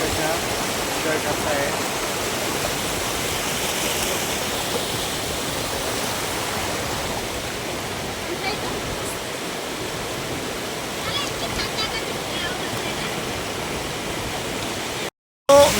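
Shitkhada waterfall near Nashik in heavy rain, a steady loud broadband roar of falling water and rain filling the whole scene without pause, ending in a brief dropout.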